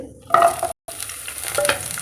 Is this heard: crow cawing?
no